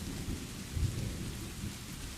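Steady rain falls through a stormy night, with a low rumble of thunder rolling in partway through, a constant dense wash of sound with no voices.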